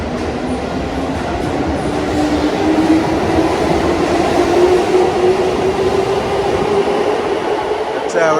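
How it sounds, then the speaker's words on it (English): A train moving through a railway station in Kyoto, Japan, a steady rumbling hum of railcars and wheels that stays constant and fairly close throughout. "One of the railway stations in Kyoto."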